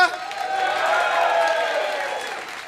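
A short burst of cheering and clapping from a comedy-show crowd, a bright mix of whoops and hand claps that rises quickly and holds steady before easing off slightly.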